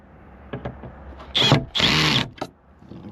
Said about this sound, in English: we're using the clutch on our drill here, so we're not going to over tighten or spin them through or break them off